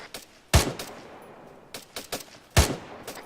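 Rapid gunshots ring out during a jungle training drill, two sharp loud cracks standing out among several quicker, fainter bursts in a tight volley, with no talking.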